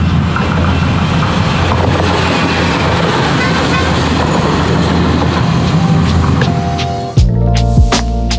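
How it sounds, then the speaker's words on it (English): A train rumbles past along a coastal railway on Faro in the Algarve, Portugal, a loud, sustained roar of wheels and wagons close by that cuts off abruptly into quieter background sounds near the end. "Oh, yeah. Here we go, the train."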